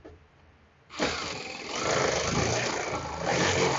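A GE clothes dryer starts up after a start button repair: a sudden loud onset of motor hum and tumbling rumble that settles into a steady, close running noise, with no talk.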